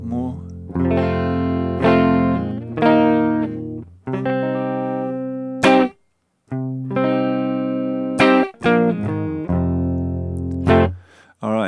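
An electric guitar played through a Killer Max Twin Reverb amp emulation with slight grit rings out in clean, sustained chords and phrases, close and loud, separated by short pauses.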